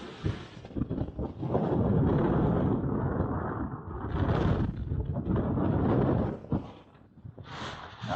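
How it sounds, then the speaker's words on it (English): Blustery wind buffets a wild camp high above Stickle Tarn, roaring in strong gusts that swell and ease, rumbling close against the microphone with brief lulls between blasts. "but it is quite blustery"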